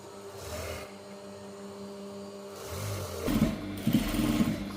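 A sewing machine stitches a one-inch seam along a gown's shoulder, starting quietly and then whirring louder in short bursts.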